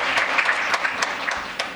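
An audience at an international youth peace conference gives a round of applause, a full, even spread of clapping from a large crowd with a few sharper individual claps standing out.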